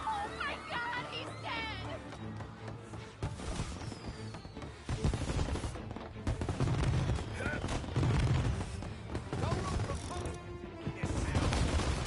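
Rapid bursts of pistol gunfire stand in for fireworks at a celebration in the Mafia video game, crackling shots and mechanical clatter repeating over a long stretch amid game music and some talk.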